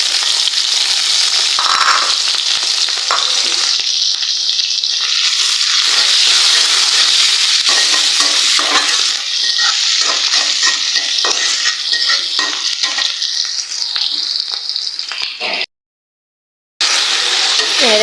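Cauliflower and potato frying in oil with green chili and onion, a loud continuous sizzle with steady stirring and scraping throughout, briefly dropping to silence near the end; no one speaks.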